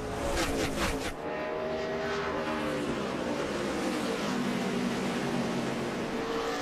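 NASCAR race cars roar past at Richmond in a sustained, loud engine drone that swells as a pack sweeps by, with no commentary over it.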